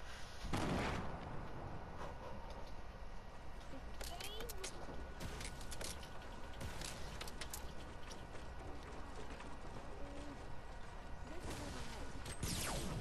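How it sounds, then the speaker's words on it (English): A grenade detonates right on the player in a shooter video game, a loud blast near the start amid continuous gunfire and rumbling chaos, with another burst at the end. "Oh, I threw a grenade at myself!"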